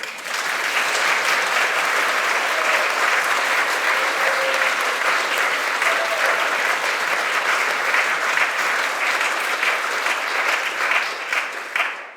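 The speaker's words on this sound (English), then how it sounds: "if you could all just give a round of applause for the fact that we are all here together" Live audience applause at an international event recording, a dense, steady wash of clapping from a large crowd lasting about twelve seconds at even loudness.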